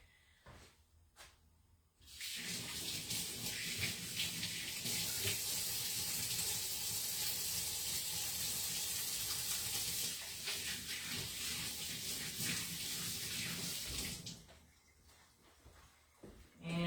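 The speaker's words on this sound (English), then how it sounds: "let me wash my hands real quick" Running tap water splashes over hands being washed in a kitchen sink, a steady loud rush for about twelve seconds, with quieter handling sounds before and after.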